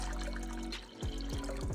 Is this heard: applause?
no